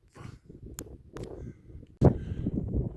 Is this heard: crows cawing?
yes